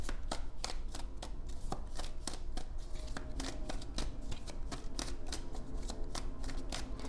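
Tarot cards being shuffled and drawn, a steady run of close, crisp riffling flicks and slaps that keeps going without pause and with no talking over it.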